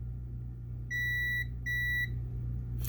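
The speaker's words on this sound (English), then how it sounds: "whenever my probe touches ground, it beeps" Two short, steady multimeter continuity beeps sound in quick succession as the probe touches ground on a graphics card, against a low background hum, each lasting about half a second.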